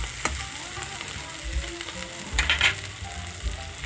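Potato pieces frying with turmeric and salt in a home Assamese kitchen, a steady soft sizzle with a few louder stirring scrapes near the middle, heard close and alone.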